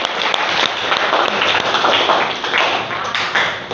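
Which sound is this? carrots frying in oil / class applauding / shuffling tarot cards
class applauding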